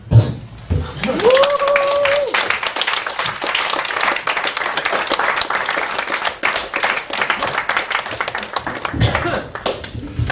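Lively audience applause at a French poetry and spoken-word evening, greeting poet Daniel Leblanc-Poirier; dense clapping swells after a brief sung or spoken tone at the start, with voices and cheers mixed in, then thins near the end.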